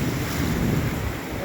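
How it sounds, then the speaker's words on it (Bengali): Sea surf on a shore rolls in as a steady, loud broadband wash, with constant wind buffeting the microphone and no pauses between breaking waves. "এত ঢেউ কোন দিকে আহে।"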